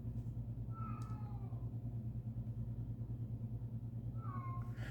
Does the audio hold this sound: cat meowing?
yes